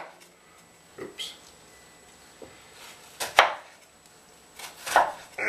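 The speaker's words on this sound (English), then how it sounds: "chop your onion right through like this" A knife chops through an onion on a cutting board while making guacamole, a few sharp, separate knocks at uneven intervals, close and fairly quiet against a hushed kitchen background.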